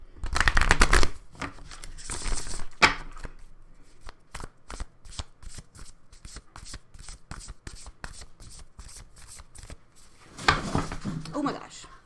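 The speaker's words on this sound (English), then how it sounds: "Let's do some shuffling." A Spellcasting Oracle deck is shuffled by hand, with a brisk riffle of cards at the start and end and quick dry taps and flicks between them, while a person talks throughout.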